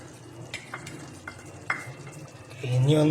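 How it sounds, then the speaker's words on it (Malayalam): Light scraping taps of a spoon stirring chicken perattu in a pan, with soy, chilli and tomato sauces added, sound over a soft background hiss, followed by a sudden rise into louder sizzling and bubbling near the end. "ഇനി ഒന്ന് ഇളക്കി യോജിപ്പിക്കുക."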